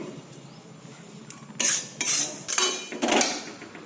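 Rice flour and plain flour are stirred together with salt in a bowl for malpua batter, making a few sharp clinks and scrapes of a utensil against the bowl.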